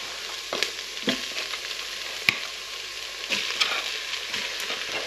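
Pork pieces added to onions frying in a pot for a pork and cider stew, producing a steady loud sizzle with a few sharp spoon knocks and bursts of stirring.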